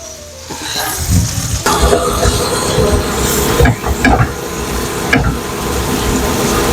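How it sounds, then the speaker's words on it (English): Zucchini sautéing in melted butter with seasonings in a small RV kitchen, a steady broadband sizzle with occasional utensil stirring and clinks, close and fairly loud throughout. "I'm just sauteing the zucchini with a couple of different seasonings and some butter"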